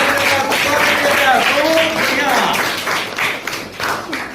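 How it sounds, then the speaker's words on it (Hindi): An audience at a KBC-style quiz game show claps in a dense wash of applause, with a voice speaking over it before the clapping thins out toward the end. "एक बार जोरदार तालियों के साथ"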